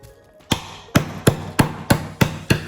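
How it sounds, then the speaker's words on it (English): Hammer crushing petulant drops into powder, seven sharp, loud, evenly spaced blows that start after a brief quiet moment. "We are going to start by crushing up the petulant drops into powder. I'm gonna use the hammer,"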